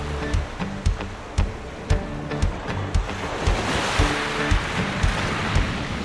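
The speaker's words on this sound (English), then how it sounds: "But it is still windy." Strong wind gusting across a beach in northern Corsica, with surf washing in underneath; steady roaring noise with periodic heavier gusts buffeting close to the microphone throughout.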